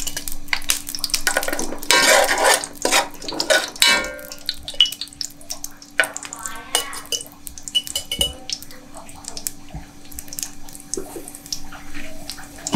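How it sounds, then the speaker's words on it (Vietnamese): Pieces of pork fat hit a hot cooking pot and sizzle in loud, hissing bursts that then settle into a softer crackle. Occasional utensil clinks and clatter sound alongside. "Này là mình cho cái nồi nóng lên. Xong cái mình bỏ tép mỡ vô."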